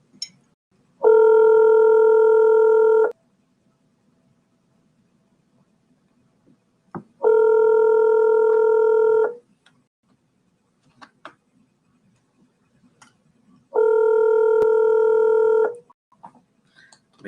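A telephone ringback tone sounds three times, each steady ring lasting about two seconds with long silent gaps, while a live-streamed podcast call is placed and rings unanswered; faint small clicks fall between the rings.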